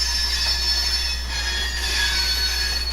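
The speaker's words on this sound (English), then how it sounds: "The train will now head back towards the main line and will be shortly crossing Angela Trestle." A Conrail coal train rolls along the track, its wheels giving off a sustained high-pitched squeal over a steady low rumble, continuous and even at moderate distance, with no talking.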